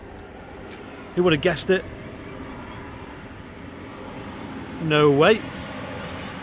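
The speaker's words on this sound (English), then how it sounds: "Oh, something on approach. Oh, is it another Ryanair?" A Ryanair airliner on approach to Manchester Airport makes a steady, distant rumble that continues throughout, with two short bursts of talk over it.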